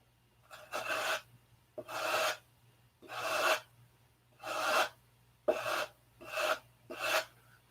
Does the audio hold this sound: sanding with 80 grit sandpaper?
yes